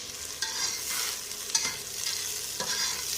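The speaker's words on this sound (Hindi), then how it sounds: "ये प्याज हमने डाल लिए, प्याज को हमने अच्छी तरह फ्राई करना है" Onions sizzle and crackle steadily in a hot pan, with occasional scraping stirs, close and moderately loud, no voices.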